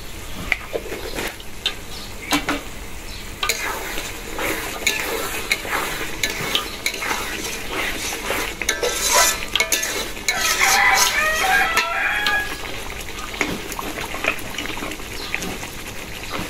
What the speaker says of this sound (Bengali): সব মশলা দিয়ে কষানো হয়ে গেল